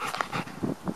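A pet dog whimpers and whines in short, uneven bursts while being offered food, close and moderately loud, with no speech over it.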